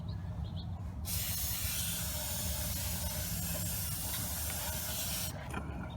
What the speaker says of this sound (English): Now we're going to apply some brake cleaner. Spray the braking surface liberally, the entire rotor, front and back.